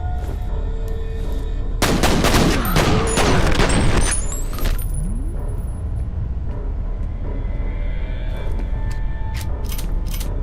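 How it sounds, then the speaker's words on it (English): A burst-fire RPG in the shooter F.E.A.R. lets off a tight cluster of booming shots with ringing, zipping tails over a steady low ambient rumble that continues after the volley fades. "It's a burst fire RPG."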